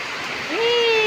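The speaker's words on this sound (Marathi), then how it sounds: "केवढा मोठा पाऊस आहे बघा. केवढा आवाज येतोय." Heavy late-morning rain pours down in a steady, dense rush, with a voice speaking over it.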